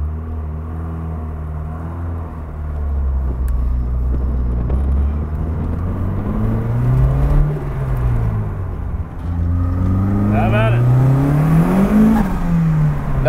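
An SR20-powered Datsun 510 revs up under acceleration, its engine note rising and falling in steady harmonic sweeps, loud and close throughout with a sharper climb near the end.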